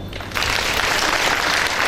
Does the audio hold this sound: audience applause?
yes